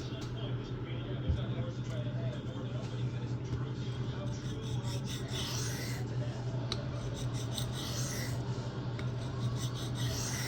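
A knife is sharpened freehand with continuous, even rasping strokes of steel on stone, close up over a steady low hum, with no clear pauses between passes.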